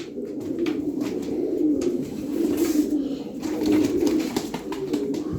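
Poultry pigeons in a coop cooing, a continuous low rolling murmur of several birds close by, with soft rustling and faint sharper sounds above it.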